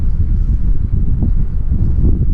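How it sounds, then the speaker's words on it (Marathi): Steady, loud wind roars and buffets the microphone at a seafront with waves during a storm, a dense low rumble with no pauses, like gusts sweeping in off open water. "लाटा बघा किती वारा बघा"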